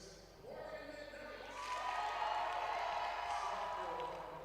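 Crowd cheers in a gym as the Emory Eagles volleyball team is introduced before its match against Berry. The noise starts moderate, swells after a second or so and stays loud and steady, with an announcer's voice over it.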